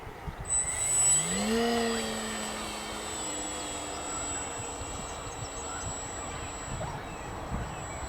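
An FMS 1400mm Piper J-3 Cub electric model plane flies overhead, its motor whine rising then settling into a steady, moderately distant drone over outdoor wind noise.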